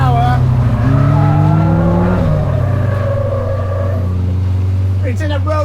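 A sports car engine in race mode drones loudly from inside the cabin, its pitch rising steadily under acceleration and then settling, while someone talks over it.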